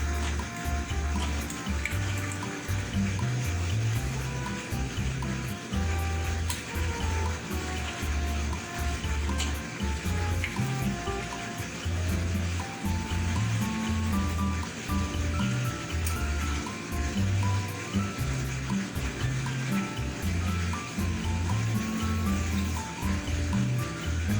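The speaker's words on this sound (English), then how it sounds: "Adding a little bit more water here, but guys, this has to be hot boiling water." Hot boiling water poured into a pot of mung daal cooking with bottle gourd and bitter gourd, a continuous splashing, bubbling liquid sound close by without speech.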